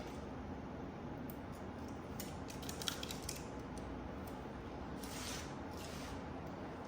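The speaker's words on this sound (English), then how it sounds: "Peel this paper off." Backing paper peeled off vinyl wrap film on a new Tesla bumper during hood wrapping, giving a soft continuous crackling rustle with brief brighter tearing bursts, fairly quiet and close, no talking.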